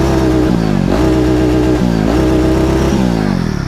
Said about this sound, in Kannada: ಸೊ ಎಕ್ಸಾಸ್ಟ್ ನೋಟ್ ಬಂದು ಕೇಳಿಸ್ಕೊಳ್ಳಿ